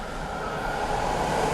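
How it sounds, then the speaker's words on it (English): Train rumbling past near a car parked in a parking lot, a steady low roar that swells slightly over its short length with no voices. "That's the train."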